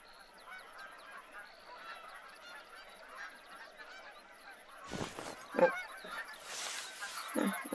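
Geese honking as a flock in the hunting game The Hunter: Call of the Wild, a scattered chorus of calls that grows louder and busier toward the end, with a few nearer honks standing out.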